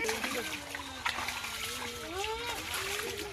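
Hands and feet being rinsed in pond water after fishing, with light splashing and trickling close by under steady children's and adults' chatter.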